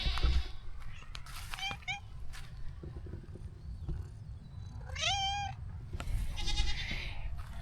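A cat lets out several clear, rising meows outdoors on a chilly morning at a place with farm animals, with two main cries a few seconds apart over a constant low rumble and scattered clicks.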